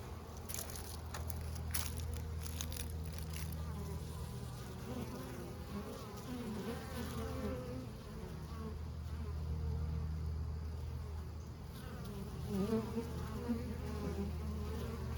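Honeybees hum steadily at a hive entrance on an active fall day as foragers fly in carrying pollen, a dense continuous buzz of many insects close by with no voices.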